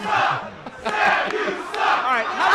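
A hostile audience at a live pageant-style comedy show reacts loudly to a joke, a dense roar of many shouting voices rising and falling in waves.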